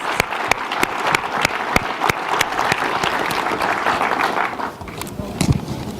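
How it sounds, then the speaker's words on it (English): A crowd applauds steadily for several seconds: dense, sustained clapping that dips briefly near the end, then swells again. "Let's do another round of applause for all our 30 finalists."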